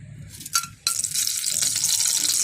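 Hot oil crackles and sizzles steadily after a sudden burst as cardamom, cinnamon and bay leaves drop into the pan, the frying noise staying close and fairly loud throughout.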